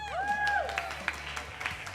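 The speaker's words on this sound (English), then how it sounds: "Let's give a big round of applause," Audience applause at the Wind Games 2018 welcome presentation, short scattered clapping with a rising whistle or cheer at the start over a low background hum.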